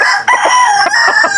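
A fighting cock crows loudly and close, a single strained, wavering crow lasting over a second, for a Filipino sale of bullstags and cocks.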